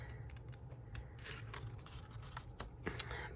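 Paper being cut roughly by hand with scissors, faint snips and rustles close by at a quiet level with no talking.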